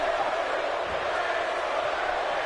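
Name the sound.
crowd cheering in the video game WWE 2K18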